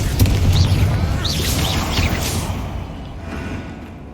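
A Confringo fire spell explodes in Hogwarts Legacy with a loud boom and swishing whooshes, then a sustained rumbling tail that slowly fades.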